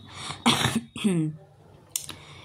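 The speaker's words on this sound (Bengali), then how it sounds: "একটু কাশি হয়েছে, এখনও পর্যন্ত কমেনি" A woman coughs and clears her throat up close at home: a loud burst of two quick coughs followed by a throaty hack, then a brief sharp cough a moment later.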